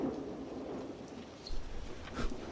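Hurricane thunderstorm with steady rain hissing on surfaces and low thunder rumbles swelling twice, fairly faint and with no voices.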